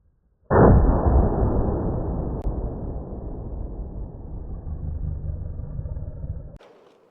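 A single .500 Magnum revolver shot goes off with a loud blast that dies away slowly as a long rumbling echo, followed by a faint click near the end.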